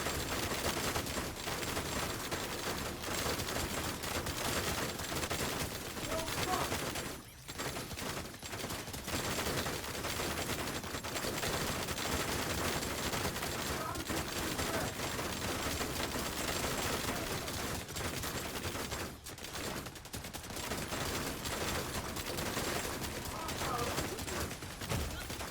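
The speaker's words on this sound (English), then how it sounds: "There's so many enemies shooting you here at once." Enemy gunfire from many shooters at once in the video game The Division 2: dense, relentless bursts of shots and impacts crowding the whole stretch, with only a couple of brief dips.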